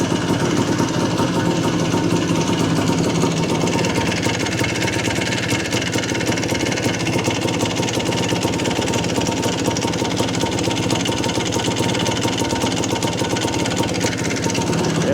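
An IT400 motorcycle engine runs steadily after start-up, a loud, continuous rough mechanical drone with a busy knocking texture that holds at the same level throughout, close by and alone.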